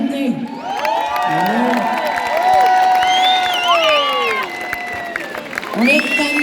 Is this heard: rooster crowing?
no